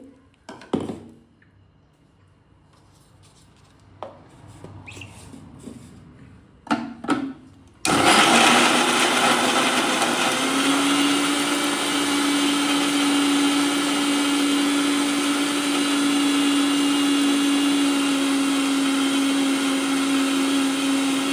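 A mixer grinder blends spice paste with added water for a Shivamogga-style greens saaru, preceded by a few taps and clunks, then starting abruptly and whirring loud and steady for a long stretch.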